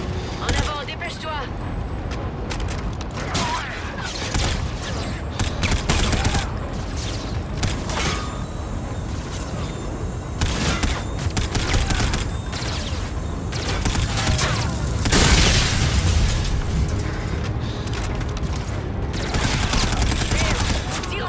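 Sustained heavy gunfire from the Call of Duty Infinite Warfare video game, loud bursts and automatic fire rolling almost nonstop with mechanical clatter and booms, with faint voices mixed in.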